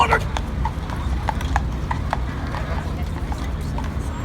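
Horse-drawn carriage in front of the Plaza Hotel, with a steady, even clip-clop of hooves on pavement at close range amid street noise, and people talking over it.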